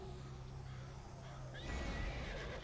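A horse whinnies in a video game as the rider heads into the Moonstone Mask. After a low steady hum, a loud neigh rises partway through, with a few hoof clip-clops around it.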